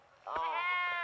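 A goat bleats once in a loud, drawn-out, wavering cry that starts abruptly and holds to the end.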